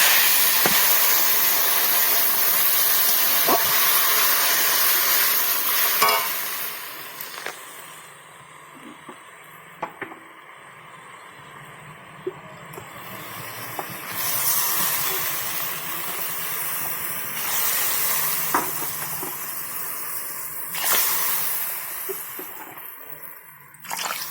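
Water going into a hot pan of kohlrabi and pea curry produces a loud hissing rush at first that fades into a quieter bubbling simmer, with intermittent surges and sharp clicks along the way and no speech.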